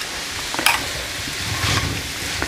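Mushrooms fry in a pan over medium heat with a steady, soft sizzle, broken by a few light stirring scrapes and clicks, no voices present.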